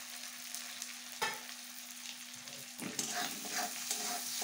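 Tomatoes and green chillies fry in a pan with grated coconut, a soft steady sizzle with occasional stirring scrapes and clatters, no talking.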